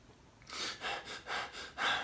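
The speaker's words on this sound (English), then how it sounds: "I'm breathing through the mouth just so you can hear me." Deep breaths drawn and pushed through the mouth, four or five airy, close-up pulses in an even rhythm with no talking.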